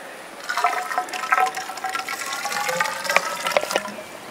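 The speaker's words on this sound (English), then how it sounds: "if you pour the water in the pipe, we'll see what happens" Water poured into a pipe outdoors during a game challenge, a gurgling, splashing rush with bubbling and trickling that swells and continues for a few seconds, fairly close and loud.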